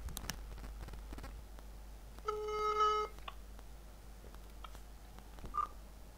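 A phone call being placed to a technical consultant: a burst of DTMF keypad tones, then a single electronic beep in a quiet room, with no voices.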